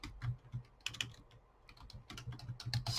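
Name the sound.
typing on a computer keyboard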